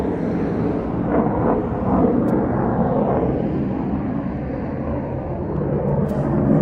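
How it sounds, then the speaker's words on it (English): A Eurofighter Typhoon jet making a performance takeoff departing East Midlands Airport, a sustained heavy roar with deep rumble filling the whole clip at steady loudness, heard from a distance outdoors. "But if you're going to depart, why not do it with a performance takeoff?"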